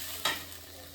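Onion, garlic and spice paste with chilli hit hot oil for a prawn bhuna. One quick, soft sizzle and stir rises briefly, then fades into a low hiss.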